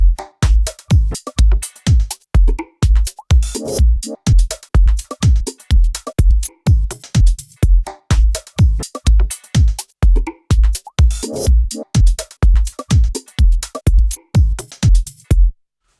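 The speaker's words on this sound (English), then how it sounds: "So now our 4 bars of unique beat loops sound like this" A punchy sliced drum loop in Logic Pro plays on its own, kicks and snares hitting in a tight, steady rhythm with slight variations from bar to bar.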